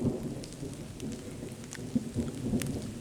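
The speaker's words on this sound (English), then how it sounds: "Storming, rainy, windy, but I'm sure I'll brave the elements" Stormy rain pours steadily in the woods near a camp, with low rumbles of thunder and gusty wind mixed into the constant hiss, alone with no talk.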